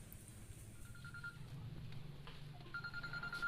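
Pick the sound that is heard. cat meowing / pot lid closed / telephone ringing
telephone ringing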